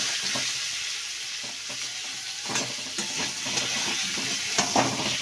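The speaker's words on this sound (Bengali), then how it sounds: "কচুটা পুরো ওরকম মাছ ভাজার মতোই ভেজে নেব।" Boiled taro fries in a little oil in a wok, with a steady sizzle broken by a few stirring scrapes and light clatters, close and without talk.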